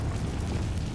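A Confringo blast spell in Hogwarts Legacy gives off a deep, rumbling explosive roar that fills the whole second, loud and sustained with no pause.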